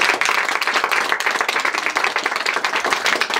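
At a children's birthday celebration in Xeoj, guests break into lively applause, dense sharp hand claps coming in quick bursts, close and loud with no talk over them.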